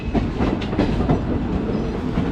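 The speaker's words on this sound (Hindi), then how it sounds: "क्रॉसिंग हो रही है अपनी वनांचल एक्सप्रेस के साथ" A Vananchal Express train running from Bhagalpur to Ranchi passes close by at a crossing, a loud continuous roar and rumble of wagons with faint clickety-clack under it.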